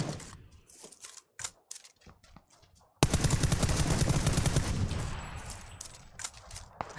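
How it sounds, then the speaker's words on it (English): Gunfire in a video game shooter: scattered sharp single shots, then from midway a dense, loud, sustained burst of rapid automatic fire that slowly tapers off. "Being shot from the house south."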